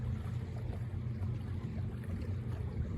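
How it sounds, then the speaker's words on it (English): A Buccaneer 18 sailboat sails in steady wind on a fall gorge, giving a faint, continuous low rush of water and wind noise with no breaks. "The boat's still sailing itself pretty much."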